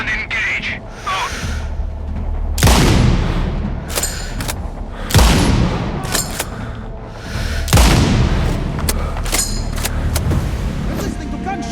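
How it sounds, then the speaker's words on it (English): Gunfire from the sniper video game Sniper Ghost Warrior Contracts 2: several heavy, booming shots land a few seconds apart, with smaller sharp cracks between them, all close and loud over a steady rumble with no speech. "I'm listening to gunshots!"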